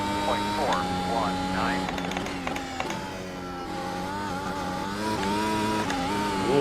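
Mercedes W12 Formula 1 car in iRacing qualifying at Mount Panorama, Bathurst: a loud, continuous simulated engine whine with rising and falling pitch sweeps as it revs through the gears, with brief wheelspin on a corner exit and a voice talking over it.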